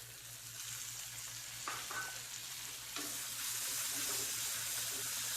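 Small shallots sauté in a pan for a tamarind mango curry, a continuous soft sizzle broken by a few scraping stirs and clinks, with a faint low hum beneath and no voices.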